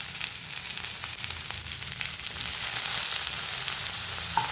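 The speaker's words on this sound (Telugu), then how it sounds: "క్యాప్సికమ్ ముక్కలు వేసి ఫ్రై చేసుకుందామండి" Capsicum pieces fry in a pan with curry leaves, a continuous close sizzle and crackle that swells slightly louder toward the end, with no talk.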